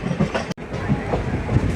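A Chennai local train passes close by on the adjacent track, seen from a Sapthagiri Express running between Chennai Central and Tirupati; a steady loud rail rumble with clattering wheels fills the clip, briefly cut by a momentary gap.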